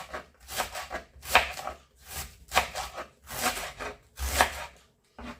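A knife slices cabbage into medium strips in repeated strokes, about seven rasping cuts in a steady rhythm, each ending with a soft thud on the board.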